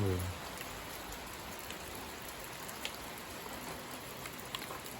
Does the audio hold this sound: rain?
yes